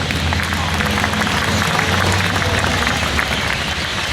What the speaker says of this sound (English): so a round of applause for Uncle Llewellyn.